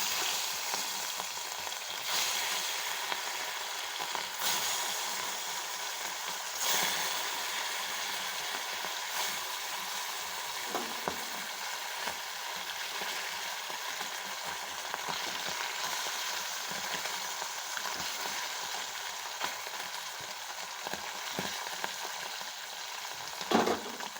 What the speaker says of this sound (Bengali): এবার দিয়ে দেবো আমি ইলিশ মাছটা ভাজতে